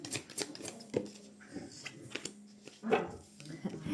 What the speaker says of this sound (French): Je m'excuse pour mes chiens, toujours.